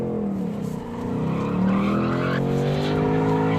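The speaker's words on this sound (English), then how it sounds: "Spinning the tires while stationary is cool, but spinning them in motion is cooler." A Ford Mustang Bullitt spins its tires while moving, giving a loud, sustained squeal over the revving engine, with pitch sweeping up as it accelerates and no voices.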